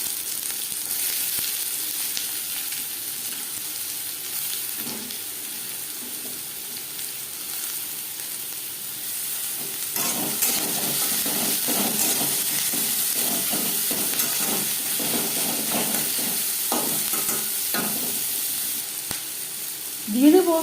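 Chopped onions sizzle and fry steadily in hot oil in a pan for an aloo paratha filling, with a continuous hiss and occasional stirring scrapes.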